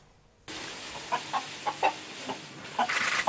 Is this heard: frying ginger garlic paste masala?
no